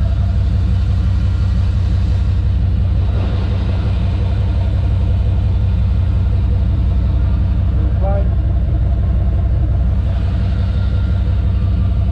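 Deep, steady exhaust rumble from an OBS truck with a new exhaust idles close and loud throughout, with no talk.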